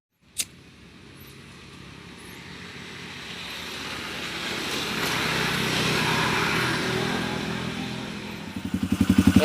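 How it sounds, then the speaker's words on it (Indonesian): Warmed-up Yamaha Xabre motorcycle engine running close by, a steady rushing mechanical drone that slowly swells in level, with a sharp click near the start and a throbbing pulse emerging at the end. "Oke kawan-kawan, ini motornya sudah jadi, sudah saya panasin sekitar 10 menit"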